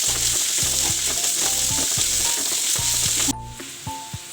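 Chopped onions sauté in a hot pan for fish keema, a loud, steady sizzle and crackle filling the whole stretch with occasional stirring scrapes and clinks, then easing to a softer fry near the end.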